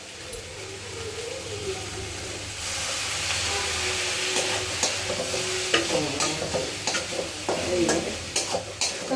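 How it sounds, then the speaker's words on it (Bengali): Food fries in a hot pan with a splash of water added, sizzling and hissing as a spatula scrapes and stirs, the strokes growing sharper and more rhythmic toward the end. "এবার ভাজা ভাজা সুন্দর হচ্ছে"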